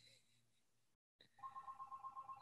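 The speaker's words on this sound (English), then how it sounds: "There's a home phone in a box in here hooked to a cord." A corded home phone kept in a box rings in a repeated electronic warble after a brief silent gap, with people talking quietly over the earlier part.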